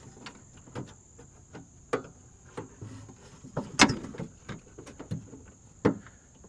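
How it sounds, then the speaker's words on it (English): Toyota Camry door lock actuator working in a car door under repair, giving a series of sharp mechanical clicks and clunks, one louder snap near the middle, over a steady high electrical whine. "you can hear the door lock going"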